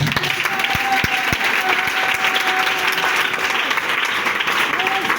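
A church congregation applauds steadily during a worship service, a dense, sustained wash of clapping with scattered shouts and voices mixed in, loud and continuous throughout.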